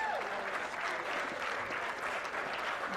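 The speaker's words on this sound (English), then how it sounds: "I just want to give a big round of applause to Serena and Dick for tonight." An audience at the 2021 Chi Chi Charity Classic golf fundraiser gives sustained applause, a dense, even clapping that fills the whole three seconds without letting up.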